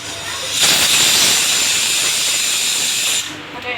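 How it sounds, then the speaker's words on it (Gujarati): A pressure cooker cooking rice in a home kitchen lets off a loud, broad hiss of steam that rises suddenly and holds steady for nearly three seconds before stopping. "અને સાઈડમાં ભાત પણ ચડવા મૂકી દીધા છે દોસ્તો, કુકરમાં ચાલુ જ છે."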